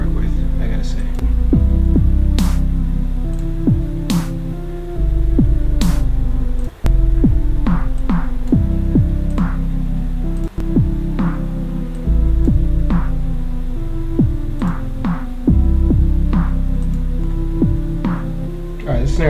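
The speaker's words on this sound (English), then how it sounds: "Alright, this snare just sucks. But that's how you make a beat. Sytrus only." A beat built only from Sytrus synth sounds in FL Studio 20 loops steadily, with deep sustained bass tones under sharp, regular snare hits and brighter percussive accents, all loud and continuous with no talk.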